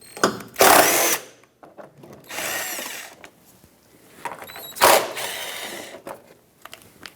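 Power tool whirring in two bursts while backing out a pair of 8mm bolts from the engine splash shield of a Ford E-350 van, each spin loud and close, with quieter rattling handling between.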